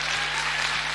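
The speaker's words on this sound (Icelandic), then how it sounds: "Gefið þeim gott klapp." A hall audience at the Tónkvíslin 2007 music contest claps for the band in a dense, continuous burst of applause, brief and even throughout.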